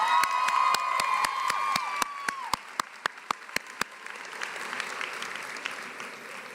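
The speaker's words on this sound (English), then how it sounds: "so can we give him a round of applause?" Commencement audience at the UCLA School of Nursing 2023 ceremony claps for an absent veteran graduate: a voice speaks briefly at first, then sharp, evenly spaced claps ring out in a steady rhythm over a soft crowd wash, fairly quiet overall.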